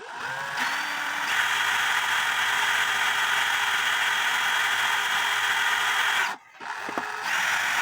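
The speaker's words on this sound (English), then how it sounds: "turn it on your drill" A power drill spins a bent cuckoo wheel from an 1887 Ansonia marble mantle clock, held against pliers. A steady close whir runs throughout, with a brief cutout and restart near the end.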